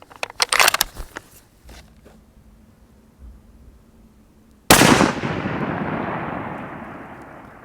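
A Barrett 98B Tactical .300 Win rifle fires at long range. Sharp clicks and cracks lead to one very loud, near blast that rolls away in a long, slowly fading echo.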